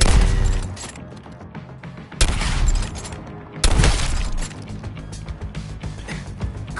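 Rapid gunfire from Suicide Squad: Kill the Justice League, loud bursts of shots and booms in quick succession, with two sharp heavier blasts punctuating a dense, continuous volley of game weapon fire.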